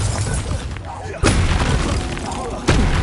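A Bombarda blasting spell in a wizard video game, with repeated booming explosive impacts over a dense, loud rumble, the two sharpest blasts about a second and a half apart.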